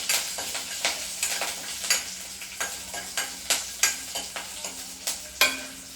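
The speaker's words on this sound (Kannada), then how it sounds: "ಅದಾದಮೇಲೆ ಕರಿಬೇವು, ಆಯಿತಾ? ಒಂಚೂರು ಮಿಕ್ಸ್ ಮಾಡ್ಕೊಳ್ಳಿ." Curry leaves and green chillies sizzle as they fry in hot oil, with a spoon scraping and stirring the pan in a steady rhythm of close, crisp strokes throughout, for vegetable oats cooked in a home kitchen.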